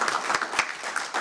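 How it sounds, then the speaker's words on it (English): Applause from an audience at a water district board of directors meeting, a short burst of scattered clapping hands close by with no talk over it. "So how about one big round of applause for all these people?"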